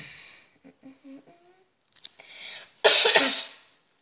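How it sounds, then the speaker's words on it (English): A single harsh cough bursts out after a few soft, indistinct sounds, loud and close, then fades quickly. "sorry about my cough"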